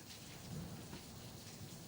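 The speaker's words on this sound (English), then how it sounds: "Enough of this rain ambiance." Steady rain hiss with a low rumble underneath, faint and continuous, no voices.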